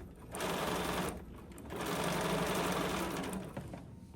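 A sewing machine stitching quilt block pieces in two sustained runs of fast whirring motor and needle chatter, close and steady, with short pauses between, no talking.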